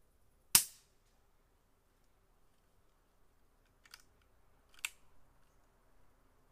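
A single sharp crack from a .22 short round fired in a Taipan pistol at about fifteen feet, loud and abrupt with a quick decay, followed by a few faint clicks and handling noises.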